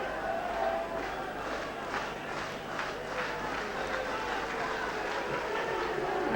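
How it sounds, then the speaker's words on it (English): A rugby league crowd at a 1985 Kiwis versus St Helens match lets out a loud, sustained roar of disapproval, with a voice faintly mixed in. "The crowd not liking that"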